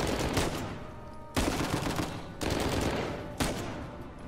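Gunfire in the action game Uncharted 4: four loud, sharp shots about a second apart, each followed by a long rumbling decay. The shots dominate the scene with no talking over them.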